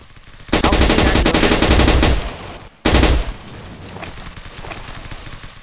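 Rapid automatic gunfire in the blocky shooter Blockade 3D, a loud, close sustained burst of shots lasting about a second and a half, a brief pause, then a second burst, with quieter distant shots trailing after.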